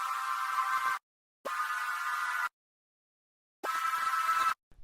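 Kontakt software synth set with attack, decay and release fully down and sustain fully up, playing three sustained notes that start and stop abruptly with no fade, separated by short silences.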